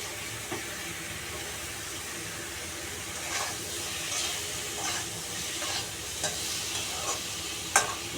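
Boiled potato pieces fry and get stirred in a pan, a steady soft sizzle with occasional louder scrapes and clicks of the spoon, fairly faint and without talk.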